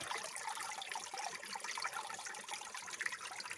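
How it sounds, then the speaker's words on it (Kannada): Water trickles through a hole into an underground tunnel, a faint, steady dribbling wash with no voices over it. "ಈ ಒಂದು ಮಾಟೆ ಒಳಂದಾಗಿ ಬಪ್ಪದು ನೀರು"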